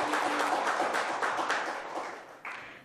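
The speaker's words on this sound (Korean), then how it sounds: "박수 부탁드립니다." Applause breaks out in a council committee meeting room as a departing official is congratulated. The clapping is moderate, fades over a few seconds, and ends with a few final claps.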